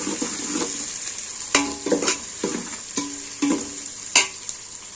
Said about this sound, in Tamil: இங்கே நம்ம வெங்காயம் நல்லா பொன்னிறமாக ஆகிட்டு இருக்காங்க.